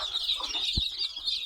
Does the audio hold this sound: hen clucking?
yes